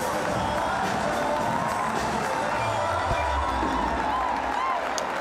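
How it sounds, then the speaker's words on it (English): A cricket crowd in a Legends League match cheers and applauds the Manipal Tigers' Mohammad Kaif reaching his fifty. The sound is a dense, continuous wash of clapping and whoops at steady loudness. "Yes, the balcony, the dugout will stand and applaud him"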